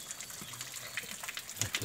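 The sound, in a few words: water gushing from Cikahuripan mountain spring spout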